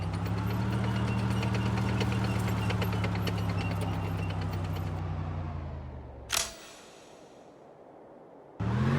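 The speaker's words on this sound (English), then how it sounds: "Truck reporting for duty." Truck engine idling in the WWII strategy game Sudden Strike 4, set at Dunkirk: a steady low rumble with a clicking mechanical rattle runs for about six seconds, then cuts off abruptly, followed by a short sharp clank and the engine starting again.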